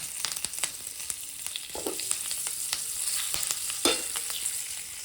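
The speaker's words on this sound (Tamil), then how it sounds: "அதே ஆயிலில் நம்ம கருவேப்பிலை ஆட் பண்ணுறோம்" Curry leaves crackle and sizzle in hot oil left over from frying squid for a masala, giving a continuous bright frying hiss with sharp pops and clicks throughout.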